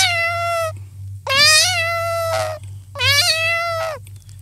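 A mimicry artist imitates a cat meowing: three distinct, close, clear meows with a brief gap between each, over a steady low hum.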